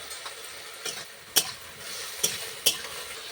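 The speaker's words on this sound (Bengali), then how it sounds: "এরপর আমি ঢেঁড়সটা ভেজে নিব" Okra fries in a pan under a soft, constant sizzle. Three or four distinct metallic clinks of a utensil against the pan break through it at uneven intervals, and no one speaks.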